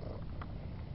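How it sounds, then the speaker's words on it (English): A cat purrs close up in a soft, continuous low rumbling rhythm, fairly quiet, with no talking over it. "And purring too."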